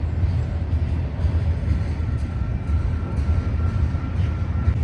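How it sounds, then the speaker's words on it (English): A train rolls through Elmhurst, Illinois, a steady broadband rumble with a constant low-end roar that holds at an even level throughout, close and continuous with no voices. "One thing about Elmhurst is there's always trains coming through here."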